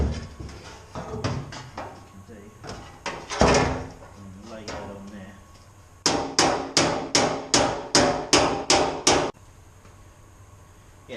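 Metal hammer blows on the edge of a car floor pan from a Ford Escort RS Turbo, clamped in a vise in a garage; scattered knocks with brief talk, then a fast run of about a dozen loud, evenly spaced strikes.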